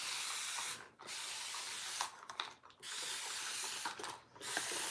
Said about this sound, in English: I'm gonna spray the whole thing down.